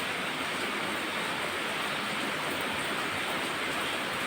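Heavy rain pouring steadily at night, a dense, even roar of broadband noise with no breaks and no voices.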